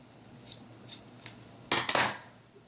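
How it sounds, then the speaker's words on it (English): Scissors cut yarn while finishing a crochet beach bag: a few faint light clicks, then two close, crisp snips in quick succession in a quiet room. "So all you have to do is cut your yarn"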